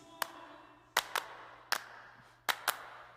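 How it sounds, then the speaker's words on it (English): Hand claps in a song mix, rendered as sharp, evenly spaced claps, some paired, standing out clearly over a quiet, soft backing. "Another little thing in here that's cool to notice is the hand clap."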